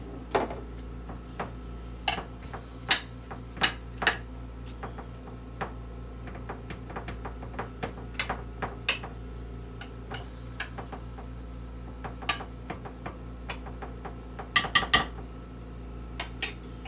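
Apple pie filling spread in a baking dish with a utensil, giving sharp scattered clicks and taps of metal against the dish over a steady low hum, with no talking.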